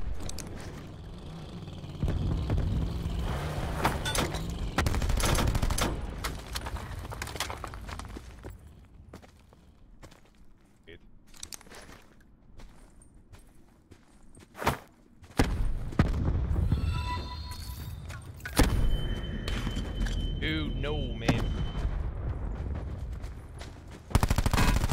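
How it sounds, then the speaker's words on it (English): Gunfire in Call of Duty: Blackout, with rapid automatic bursts and scattered shots near and far, easing into a quieter stretch before sharp close shots and renewed firing break out. "Wait, there's a lot of shots on."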